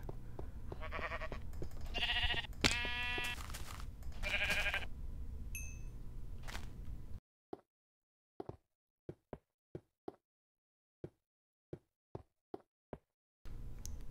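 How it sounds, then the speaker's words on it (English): Minecraft sheep bleat several times, loud and close, in the video game. A silent stretch follows, with a series of sharp, evenly spaced clicks or taps. "Yes, there's another sheep."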